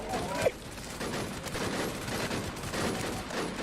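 Machine gun fire in the WarZ video game crackles as a fast, muffled rattle, fairly faint and continuous over the brief stretch, with players talking over it.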